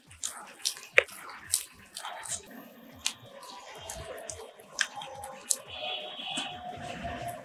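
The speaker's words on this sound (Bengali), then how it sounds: "জল দিয়ে দিয়ে ফেনিয়ে নিতে হবে" Kolai dal paste is beaten with water by hand, giving wet squishing slaps and drips at an irregular, fairly steady pace, close and moderately loud.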